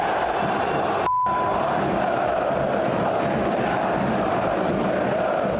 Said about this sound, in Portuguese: vaias para Abel Ferreira